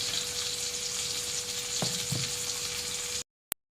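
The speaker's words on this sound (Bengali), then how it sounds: "তো দেখুন আলুগুলো তো ভাজতে দিয়েছিলাম" Potatoes frying in oil over a lowered gas flame, a dense continuous sizzle with a couple of soft utensil knocks, cutting off abruptly near the end before a single sharp click.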